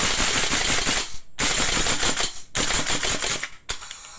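An HK G28 gas blowback airsoft rifle by VFC/Umarex, running on propane, fires rapidly in semi-auto, giving dense bursts of sharp snapping shots in three quick strings separated by brief pauses, loud and close with no talking.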